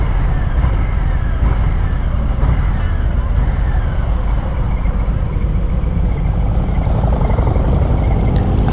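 Harley-Davidson Fat Boy motorcycle, a 2022 model, on the road, with a loud, steady, rumbling engine drone and rushing wind noise up close throughout.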